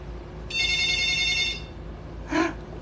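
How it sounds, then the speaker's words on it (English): A telephone bell rings once in a clear electronic burst for about a second indoors, over a low steady hum, followed by a shorter fainter blip; no one speaks. "Phone's ringing."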